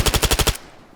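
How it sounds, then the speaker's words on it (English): A short burst of roughly six rapid shots from an MP7 PDW in the video game Arma 3, loud and close, cutting off into a brief fading tail. "It fires so quickly, this little gun, and it's so easy to control"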